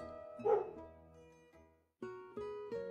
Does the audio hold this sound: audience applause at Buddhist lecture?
no